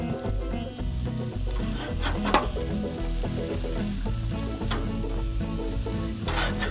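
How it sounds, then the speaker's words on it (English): Thick burger patties sizzle loudly and steadily on a hot propane grill, a continuous close frying crackle with occasional sharper pops and spatters, no voices. "Cooked on propane grill."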